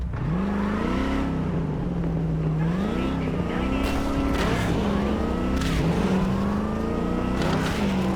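A car driving in Cyberpunk 2077, the engine droning steadily with its pitch rising and falling as it revs and shifts, continuous and close throughout, with no voices over it.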